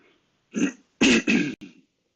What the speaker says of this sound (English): Sorry for clearing my throat like that the whole time.